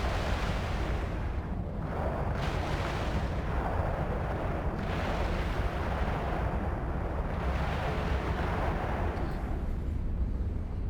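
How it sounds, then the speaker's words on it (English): A spaceship exploding in EVE Online, a long continuous roaring rumble with surging waves of blast noise, loud and steady for about eleven seconds. "We're gonna watch this baby explode"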